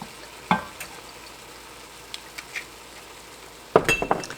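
A hot pan sizzles as toasted sesame oil is added to deglaze it, with sharp clinks of a utensil and stirring, loudest in a burst near the end.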